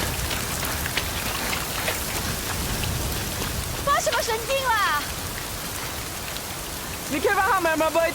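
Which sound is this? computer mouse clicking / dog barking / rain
rain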